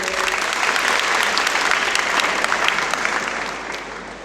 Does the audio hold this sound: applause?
yes